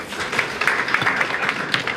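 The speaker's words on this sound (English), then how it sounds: "I think you deserve a clap for that" An audience applauds at an awards ceremony honoring resilient young people, producing a dense, steady patter of clapping that holds fairly loud and even for about two seconds.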